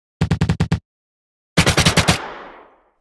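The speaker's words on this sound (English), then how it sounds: "About the weapon sound, to make the gun sound strong and clear, I'll split sound in 3 layers: mechanic, firing," Layered gunshot effect for a video game weapon, built from mechanic, firing and impact layers: a quick burst of five sharp shots, a pause, then a second rapid burst ending in a long decaying tail.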